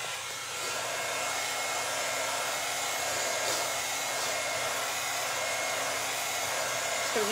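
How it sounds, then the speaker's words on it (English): Heat gun blowing on poured resin, a continuous close airy roar with a faint motor whine, steady and unbroken, with no voices. "now I'm going to hit this with heat"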